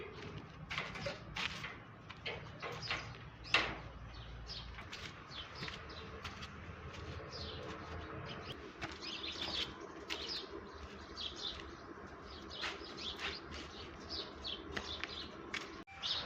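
Pigeons chirp and flutter close by at a rooftop pigeon house in a steady scatter of short calls, with soft wingbeats and a faint low hum underneath.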